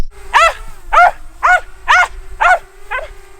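A dog on a homestead barks at a drone overhead: six loud, close barks in an even rhythm, each about half a second apart, with a faint steady hum running underneath.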